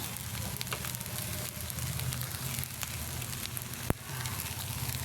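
Egg mixed with moringa leaves sizzles steadily in a hot pan for fried rice, a continuous close crackling fry with one sharp tap partway through.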